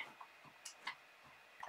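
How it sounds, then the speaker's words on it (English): Ollie, a pet cat, scratching at his scratching post: a few soft, irregular scratchy ticks and scrapes heard close by over a quiet room. "If you're wondering what that noise is, that is Ollie scratching on his post"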